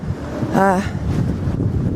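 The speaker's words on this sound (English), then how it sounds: "it's incredibly windy, biting cold" Gusty wind buffets the microphone with a low, continuous rumble, and a brief voiced sound rises partway through.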